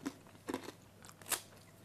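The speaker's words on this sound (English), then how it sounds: "I love the crunch of the onion." Crunchy bites and chewing while eating herring with onion and lemon, a few crisp crackling bursts spaced across a short, quiet moment with no talk.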